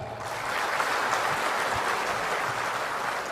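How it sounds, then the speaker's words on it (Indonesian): Steady applause from a large audience at a national ministry working meeting in Indonesia, a continuous even wash of clapping throughout, with no voices standing out. "Tepuk tangan untuk Sumatera."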